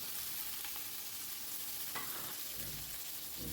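Soft eggplant pieces fry in hot oil with salt and a pinch of turmeric, producing a continuous, close, even sizzle and spatter, with a faint stir or shift of the pan partway through and no voices.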